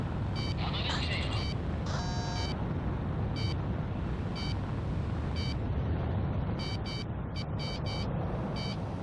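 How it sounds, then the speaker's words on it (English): Missile alert warning from Ace Combat 6 on Xbox 360 during an aerial dogfight: repeated electronic beeps in short clusters over loud jet engine roar, with occasional radio chatter in the mix. "That damn alert won't shut up!"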